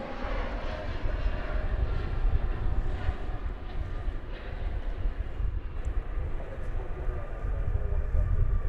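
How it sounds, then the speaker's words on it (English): A Delta Airbus A320 airliner on Flight 521 from Los Angeles arrives at DFW Airport, a continuous broad jet roar holding steady and fairly loud throughout. "Here comes a Delta aircraft. Flight 521 coming in from Los Angeles."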